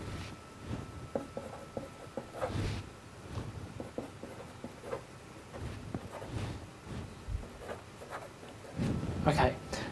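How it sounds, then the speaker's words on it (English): A pen scratches and taps on paper while writing out a double integral by hand, in irregular close strokes with short pauses between marks, and no talk over it. "I'm just going to write out the integral again"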